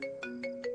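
A phone ringtone trills in four repeated bursts, each with a steady electronic tone, ringing on without anyone picking up; no one speaks.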